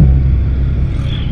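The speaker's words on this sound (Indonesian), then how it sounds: "Truk pengangkut barang." Low heavy rumble of a goods transport truck passing on a mountain road, loud and close, a steady engine roar over about a second.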